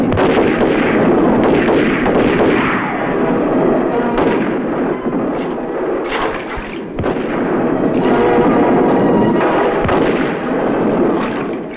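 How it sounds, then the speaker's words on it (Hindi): Dense gunfire barrage recreating a massacre, loud and continuous for the whole stretch, with rapid overlapping shots and sharper cracks punching through a thick roar. "गोलियों की ये बाढ़ 15 मिनट तक चली और हजारों लोग मारे गए।"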